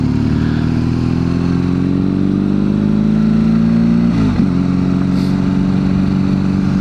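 A BMW GS Adventure motorcycle engine runs loud and close in a steady droning note that rises gradually, dips briefly with a gear change, then carries on at a constant pitch as the ride gets under way.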